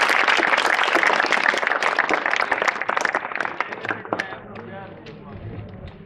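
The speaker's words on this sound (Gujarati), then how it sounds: "આપણે એમને તાળીઓથી વધાવીએ" An audience at a bicycle distribution ceremony for schoolgirls breaks into loud, dense clapping that thins out and fades over the last couple of seconds, with voices around it.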